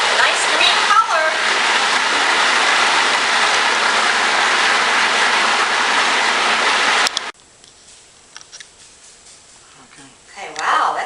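A food processor runs steadily, loud and close, blending cooled apples with a few drops of green food coloring, then cuts off abruptly partway through, leaving quiet room sound and faint talk.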